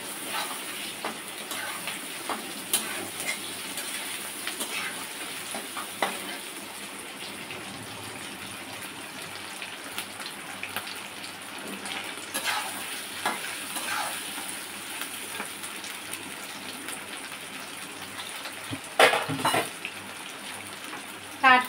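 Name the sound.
stir-frying garlic and spices in a pan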